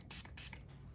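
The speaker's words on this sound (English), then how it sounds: "What I can do at this exact moment is let's do our setting spray" J.Cat Beauty Cucumber Makeup Setting Mist gives two quick, close hissing spritzes from a pump bottle, with a short gap between them, followed by quiet.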